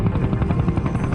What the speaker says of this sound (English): hires a helicopter and flies north along these islands